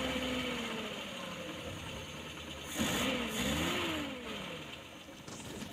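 A Suzuki Carry van engine idles roughly, then revs up unevenly with a shaky, stumbling rise in pitch as the engine shakes before settling back, close and loud.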